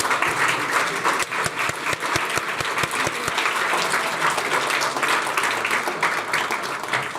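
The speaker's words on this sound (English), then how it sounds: "A very just round of applause." Sustained audience applause fills a conference hall after a talk on Russia and European security, dense and steady throughout with a few distinct claps standing out near the start.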